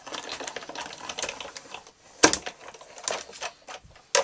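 A Stampin' Up! embossing machine cranks a 3D embossing plate through its rollers, giving a close, steady run of rattling mechanical clicks and whirring with a few sharper bursts near the end. No one speaks.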